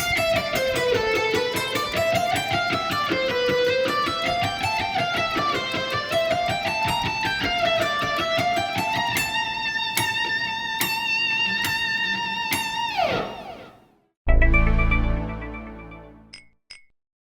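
A distorted electric guitar plays a fast, melodic solo section in a continuous run of notes, with high ringing bends near the end before a brief gap and a final low sustained chord.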